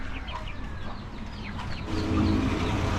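Chickens cluck and chirp in short, scattered calls close by, with a low background hum that grows louder toward the end.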